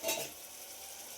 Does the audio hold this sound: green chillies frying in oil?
yes